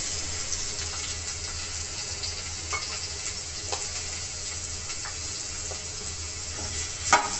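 Capsicum fries in a pan with onion, garlic and green chilli, giving a steady sizzle under occasional scraping stirs and clicks of a spoon, one sharp clack near the end, no voices.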